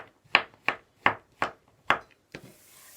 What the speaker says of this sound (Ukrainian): А так кришимо такими напівкружальцями грибочки. І так кришимо всі.